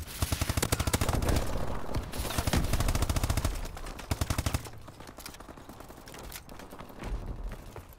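Gunfire in a Call of Duty Advanced Warfare Search and Destroy match comes in rapid, loud bursts of repeated shots, then thins into scattered, fainter fire.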